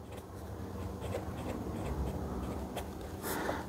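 A Hero 8007 fountain pen with a fine nib and Noodler's Black ink scratching across paper, soft close strokes with a few sharper scrapes near the end, no talking.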